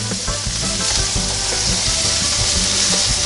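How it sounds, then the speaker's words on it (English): Sausages sizzle and fry steadily in a NuWave Medley XL electric skillet, a loud, even crackling hiss with small pops throughout and no voices. "I'm gonna give these sausages another flip."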